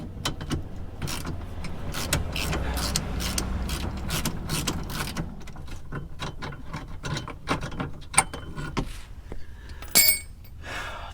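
Ratchet wrench clicking repeatedly while loosening bolts underneath a 1980 Corvette during fuel tank replacement, a dense run of sharp ratcheting strokes with mechanical clatter, fairly close and alone.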